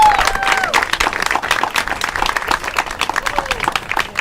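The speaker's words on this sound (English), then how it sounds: "Nice round of applause, please." Audience applause at a wedding reception for two brides, dense lively clapping from a crowd with whoops and cheers mixed in, close and loud throughout.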